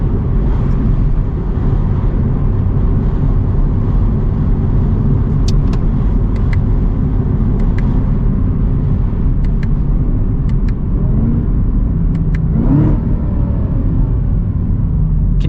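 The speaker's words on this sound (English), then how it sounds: "it does go a little bit higher up into the RPMs with the sport mode" A Chevy Camaro ZL1 1LE engine drones steadily in sport mode, held in fourth gear at higher RPM, a loud, continuous rumble heard from inside the car during city driving with faint clicks over it.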